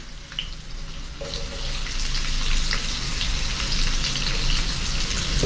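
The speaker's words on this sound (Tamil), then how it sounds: "சரி இது இப்படியே பொரிஞ்சு கொண்டு இருக்கு" Brinjal frying in a pan, a soft, steady sizzle that swells slightly after the first second and then holds evenly, close by and without voices.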